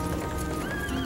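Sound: horse hooves clip-clop and whinny in Sleepy Hollow movie

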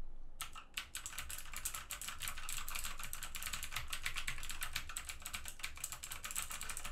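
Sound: typing on Modecom Volcano keyboard with Outemu Blue clicky switches

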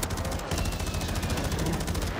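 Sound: gunfire from the Razorback gun in a video game

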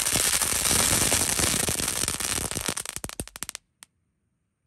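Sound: firecrackers exploding

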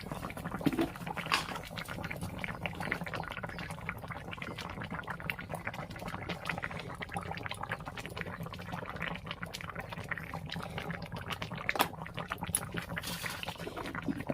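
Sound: curry boiling in a pot

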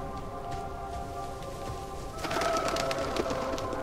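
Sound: bird cooing in video game Diablo 4

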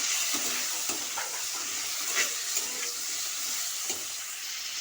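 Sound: potatoes and tomatoes frying together in a pan

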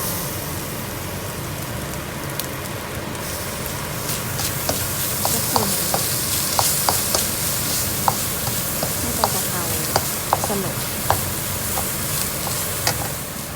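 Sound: stir-frying pork with holy basil leaves in a pan

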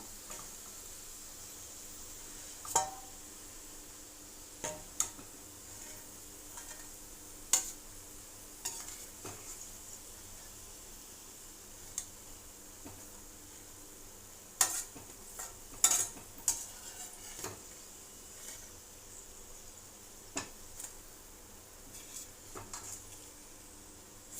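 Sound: onions frying for chicken biryani

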